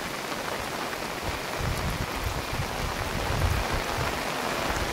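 Heavy rain pours steadily over a village where water has pooled in the fields, a dense, even hiss with low patters of drops on surfaces throughout, no voices.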